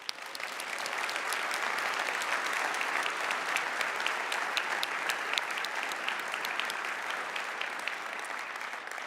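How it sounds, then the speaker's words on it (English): A large conference audience applauds at a live corporate event, a dense, steady wash of many hands clapping continuously for several seconds, even in loudness and without speech. "Please give yourselves a huge round of applause."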